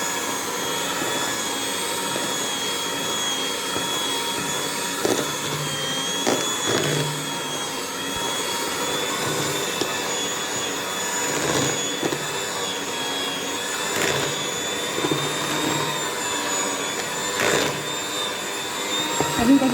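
Continuous loud whir of an electric mixer beating cake batter with sugar until it dissolves, a steady motor drone running throughout with faint background voices.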